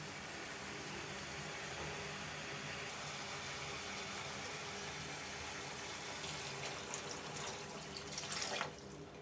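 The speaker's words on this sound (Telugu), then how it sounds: "కొంచెం వాటర్ పోసుకుందాం" Water pours steadily into a pan of mushroom and onion curry, a continuous hissing splash that swells and then stops near the end.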